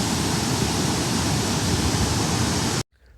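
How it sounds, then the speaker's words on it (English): A man-made waterfall near the Marienbrücke bridge by Neuschwanstein Castle roars with a loud, dense, unbroken rush that cuts off abruptly just before the end. "There's a man-made waterfall."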